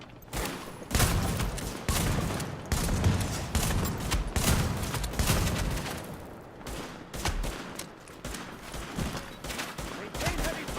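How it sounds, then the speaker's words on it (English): Heavy sustained gunfire from a firefight in The Division, with dense overlapping bursts of automatic fire and shots running continuously and loudly throughout. "Maintain heavy fire!"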